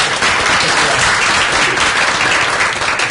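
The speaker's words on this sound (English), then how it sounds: "let's first give a round of applause" Loud, dense audience applause at a public health law lecture fills the whole span evenly, a steady wash of many hands clapping close by with no pauses.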